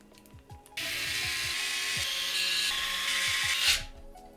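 Power screwdriver driving small screws to fix a radiator onto a gaming PC case frame, a steady high whir of about three seconds after a few light handling clicks, close and loud with no talking.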